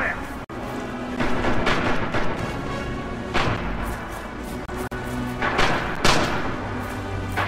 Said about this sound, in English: I'm just spamming grenades now.